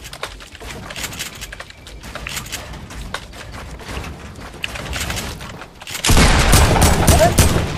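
Gunfire in the video game Fortnite crackles in scattered shots under game noise, swelling near the end into a loud, dense burst of firing.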